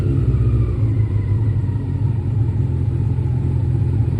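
A Honda CBR F1 Hurricane 600 motorcycle engine warming up at a steady idle, a loud, close, continuous low rumble that holds even throughout.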